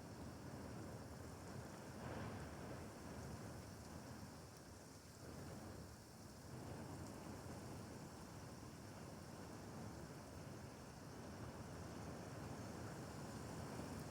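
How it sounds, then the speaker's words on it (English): Heavy rain pours down in a steady, even hiss during a severe thunderstorm with strong wind gusts in Sioux Falls, South Dakota, faint and continuous with no voices. "Oh yeah, it's really pouring down, like pretty quick."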